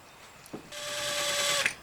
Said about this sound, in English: I'm just using it as a center drill so that I can locate the proper tap size here in a second